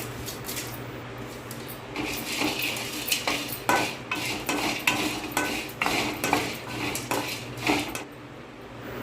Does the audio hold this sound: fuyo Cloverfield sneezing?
no